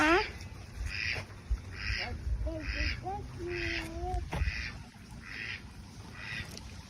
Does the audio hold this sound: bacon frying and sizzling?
no